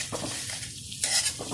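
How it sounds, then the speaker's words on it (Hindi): Mawa (khoa) roasts on a low flame for carrot halwa, a brief, close burst of soft sizzling and scraping as it is stirred in the pan. "लो फ्लेम पर ही हम भूनते रहेंगे मावा।"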